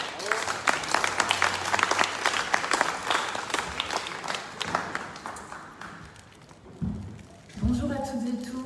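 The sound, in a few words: audience applauding a mayor at a conference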